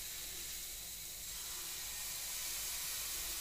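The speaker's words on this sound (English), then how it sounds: "you can hear that sizzling. That's a good sign that the pan is the right temperature" Pancake batter sizzles steadily in a hot pan, a soft, continuous close hiss with no voices.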